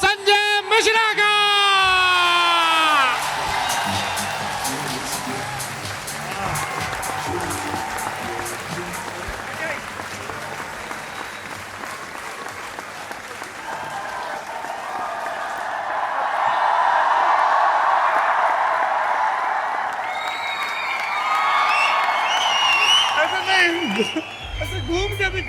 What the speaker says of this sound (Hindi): जोरदार तालियों के साथ स्वागत करिए विनीत कुमार और संजय मिश्रा का